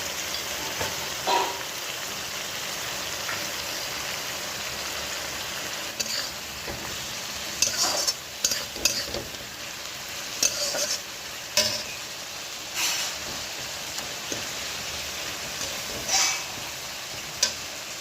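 A spice paste of onion and tomato with chilli, cumin and turmeric powders fries for a prawn curry while being stirred, giving a constant close sizzle broken by scraping and tapping strokes of the spoon against the pan.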